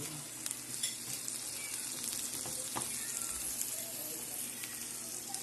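Chicken and vegetables sauté in a pan after garlic and onion, with a continuous soft sizzle and faint scattered stirring clicks, fairly quiet and without talk.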